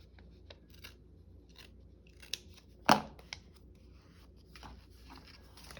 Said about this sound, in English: we can just sort of have a snippy snip